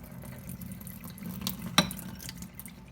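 Tap water running steadily into a jar of sprouting beans and lentils during rinsing, a soft continuous splashing flow with one brief clink near the middle.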